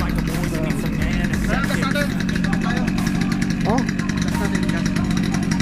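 A motorcycle engine idles steadily nearby with a continuous low rumble, while people talk over it.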